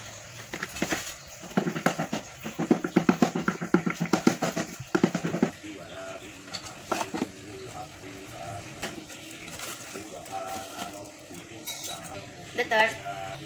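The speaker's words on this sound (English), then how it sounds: "The second, grate dry yeast ball." A dry yeast ball grated by hand, giving rapid rhythmic scraping strokes in quick bursts up close, then sparser clinks and scrapes, with faint talk in the background.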